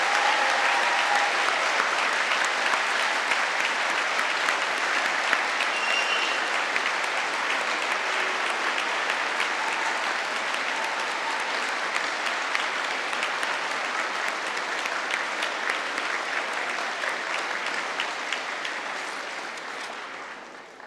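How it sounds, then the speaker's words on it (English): A large audience at a degree ceremony in London claps in steady, dense applause that holds for about twenty seconds. It sounds full and evenly spread across the hall, then fades slightly at the end, with no talking. "let's give them a massive round of"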